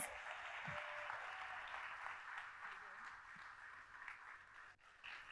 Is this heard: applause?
yes